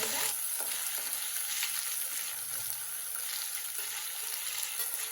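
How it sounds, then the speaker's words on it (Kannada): Cashew nuts frying in a pan of oil, a constant dense crackling sizzle, close and moderately loud, with faint stirring touches and no voices. "ಸೊ ಇದು ಕ್ಯಾಶ್ಯೂ ನಟ್ಸ್ ಜಾಸ್ತಿ ಚೆನ್ನಾಗಿ ಫ್ರೈ ಮಾಡ್ಕೊಳ್ತಿದ್ದೀನಿ."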